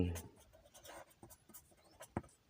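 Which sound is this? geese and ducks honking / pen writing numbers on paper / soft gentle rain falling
pen writing numbers on paper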